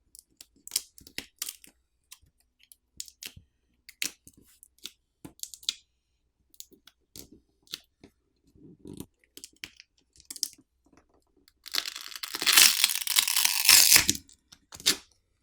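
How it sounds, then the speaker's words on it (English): A pull tab pries the battery off a Vivo T1 Pro / iQOO Z6 Pro phone during a teardown, giving sparse small clicks and taps followed by a brief, louder tearing rasp near the end. "To remove the battery, there's a pull tab provided to help us pry the battery off."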